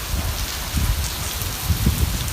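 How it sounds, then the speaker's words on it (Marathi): Heavy rain pours down steadily, a dense, continuous hiss with irregular spatters and drops drumming on nearby surfaces, fairly loud and close, with no voices. "हा पाऊसच पाऊस आला आहे"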